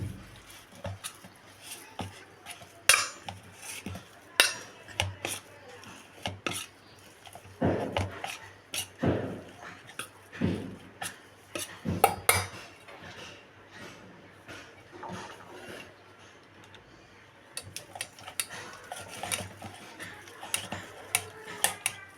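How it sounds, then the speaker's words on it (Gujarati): Strained yogurt for shrikhand being stirred and mixed in a bowl, giving irregular soft knocks and scrapes of a utensil against the container, close and moderately loud with quiet gaps between strokes. "હવે તેને આ રીતે થોડું હલાવી દઈશું, મિક્સ કરી દઈશું।"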